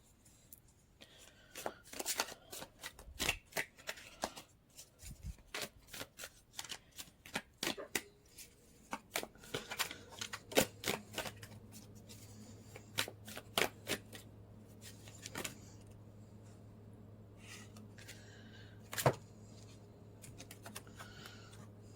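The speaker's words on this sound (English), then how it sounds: "Oh, I've got cards falling out all over the place." Tarot cards being shuffled and spilling out, a long stretch of quiet, close riffling and flicking with scattered sharp slaps and taps, faint throughout.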